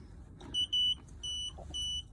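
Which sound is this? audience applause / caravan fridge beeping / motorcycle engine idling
caravan fridge beeping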